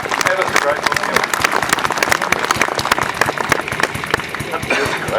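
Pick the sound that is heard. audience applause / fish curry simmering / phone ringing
audience applause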